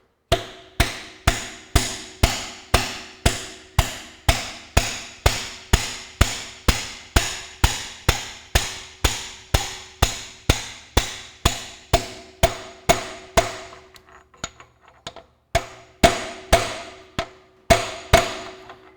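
A hammer strikes a socket again and again in a steady, brisk rhythm, driving the timing sprocket onto a 1954 Ferguson TEA20 tractor. The ringing metallic blows are loud and close, slow toward the end, then come as a few spaced final taps.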